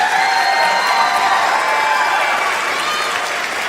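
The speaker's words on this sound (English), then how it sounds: "Let's give them a round of applause," Steady, dense applause from a school audience at a junior high spring concert for a mariachi band, a continuous loud wash of clapping and crowd noise holding evenly for several seconds.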